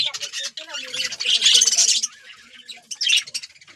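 Several birds squawk and chirp harshly in bursts while fighting over clay nesting pots, a noisy close-up scuffle with short pauses between outbreaks.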